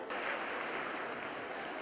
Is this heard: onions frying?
no